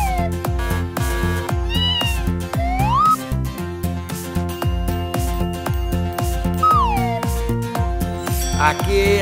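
A cartoon cat gives two rising meow-like calls over a bouncy children's song, with steady drums and synth playing throughout.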